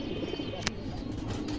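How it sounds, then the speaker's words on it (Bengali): Soft, low cooing from a silver Beji pigeon, a brief murmur over faint background hiss with one small sharp click partway through. "নিতে পারেন সিলভার বেজি কবুতর"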